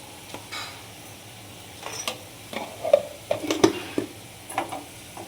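Leafy greens cooking in hot oil in a pan, with a faint sizzle under soft stirring scrapes and a few light clinks that come in small clusters, close by and quiet.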